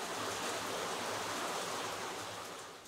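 Steady rain in the rainy season in Costa Rica, falling as a dense, even hiss that fills the whole clip at moderate loudness with no voices, fading slightly toward the end.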